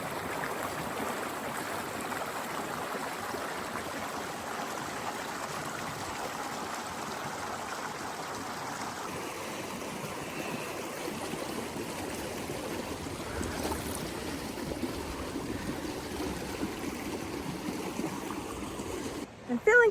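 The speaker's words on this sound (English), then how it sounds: "I'm coming down to Holcomb Creek, my water source" Holcomb Creek flows and trickles over rocks along a hiking trail, a steady close babble of moving water that stays fairly even throughout, ending with a brief sharp clatter.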